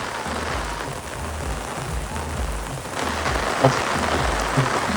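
A steady downpour of heavy rain drums on surfaces without a break in Thasra, Gujarat, loud and close, with a couple of sharper drips standing out.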